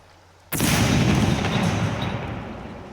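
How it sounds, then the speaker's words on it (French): An AT4 rocket launcher fires at and destroys a turret in the survival game SCUM: a sudden loud blast after half a second of near quiet, followed by a sustained, roaring explosion rumble that stays heavy to the end. "On va tester avec le AT4 et vous allez voir qu'un seul ogive va détruire une tourelle."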